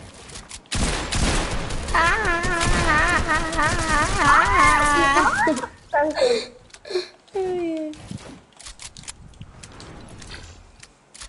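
Rapid gunfire from a shooting video game bursts out for several seconds, followed by scattered shorter shots and effects, heard over excited players talking.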